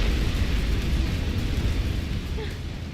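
Explosion in the video game Resident Evil 3: a dense, loud low rumble that persists steadily across the whole stretch, with game sounds layered over it.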